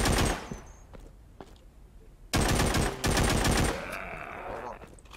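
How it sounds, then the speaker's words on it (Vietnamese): An automatic weapon in the zombie shooter The Walking Zombie 2 fires rapid, loud bursts, an opening burst, then a long sustained stream of shots after a short pause, followed by quieter game ambience. "Bạn thấy cái tốc độ bắn của cây súng này nó kinh khủng đến mức độ nào chưa à?"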